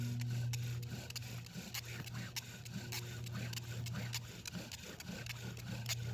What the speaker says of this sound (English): I'm just going to spin this until it gets smoking a little bit